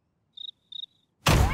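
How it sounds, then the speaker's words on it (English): An animated cartoon cricket gives two short, close, high-pitched chirp trills, each a rapid triple pulse, before a loud burst of noise cuts in. "Is that a cricket?"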